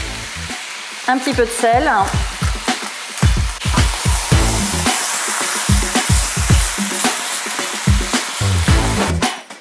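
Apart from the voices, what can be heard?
poultry searing and sizzling in a De Buyer wok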